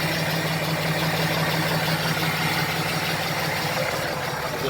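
A steady, even hum from a FASS fuel pump on an idling diesel truck runs alone at a constant level under a low engine drone, without change throughout.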